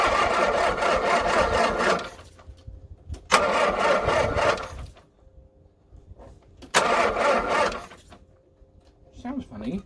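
An engine is cranked over in three separate long bursts of loud, rough churning, with quieter gaps between attempts and a brief rattle at the end.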